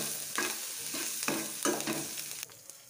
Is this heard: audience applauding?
no